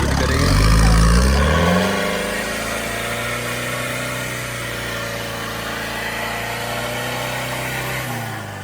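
A Mahindra Thar engine revs hard during a winch recovery, a loud surge in the first two seconds settling into a steady, throaty idle-like drone that holds to the end.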